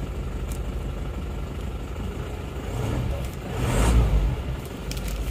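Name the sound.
Isuzu Panther diesel engine running rough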